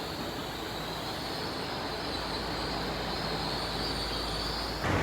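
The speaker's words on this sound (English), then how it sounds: "it's 1 Charlie 93, it's a 9-car IET. There it is, 800 313 again." A nine-car Class 800 IET train, unit 800 313, passes steadily with a continuous broad rumble and rail hiss throughout, and a faint high whine rides above it.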